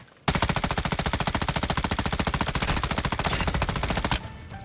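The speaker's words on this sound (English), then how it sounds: "Taking effective fire." Sustained automatic gunfire in Call of Duty Warzone 2 DMZ, a loud rapid burst of closely spaced shots lasting nearly four seconds, then stopping abruptly into quieter background.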